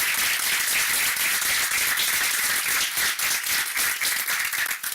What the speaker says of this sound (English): can I please just have a round of applause for them